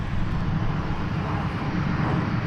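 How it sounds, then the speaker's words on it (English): Unmarked government fixed-wing airplane passing at Boeing Field, a loud steady engine roar that holds evenly through the whole stretch with no break or fade. "there goes our unmarked government airplane"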